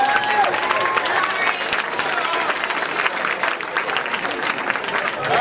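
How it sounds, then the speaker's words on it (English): Comedy club crowd at the Orlando Improv clapping and cheering as a comedian takes the stage, a dense, lively burst of applause that stays strong throughout, with voices mixed into the noise. "Stop the clapping, stop the noise."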